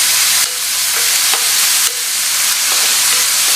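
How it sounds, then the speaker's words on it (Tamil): Chopped onions sizzling and frying in hot oil in a pan with occasional stirring, a steady close-up hiss and crackle throughout, no voices. "இந்த வெங்காயத்தை எண்ணெயிலேயே கொஞ்சம் வதக்கி விட்டுக்கலாம்."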